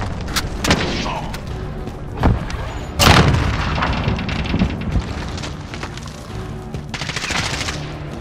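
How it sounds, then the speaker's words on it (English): In a Call of Duty: Modern Warfare multiplayer match, scattered gunshots crack alongside a heavy booming blast from a cruise missile strike, followed by rumbling impacts and further shots, all loud and close. "Allied cruise missile launched."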